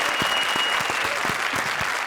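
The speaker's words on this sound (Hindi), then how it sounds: "प्रिंस के लिए एक बार फिर से जोरदार तालियां" A comedy show studio audience claps loudly for a performer, with dense, close hand claps in a lively run of sharp individual smacks and no talking.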